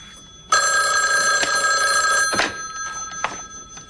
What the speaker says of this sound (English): Forget the phone.